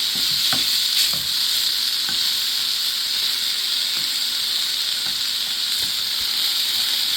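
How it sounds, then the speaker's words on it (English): Vegetables and tomato cooking in a pan give off a dense, steady hissing sizzle, with faint soft knocks as the tomato is smashed, close and without talk. "And I'm going to smash the tomato up."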